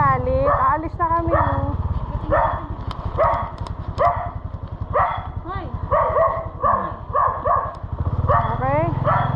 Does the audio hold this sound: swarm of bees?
no